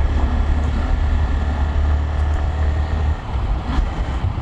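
A full sports motorcycle in Bangladesh runs its engine in a steady, loud, low droning rumble that holds without a break and eases slightly near the end.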